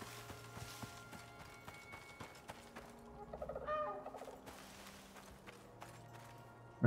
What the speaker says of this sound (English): Now you have 2 little birds.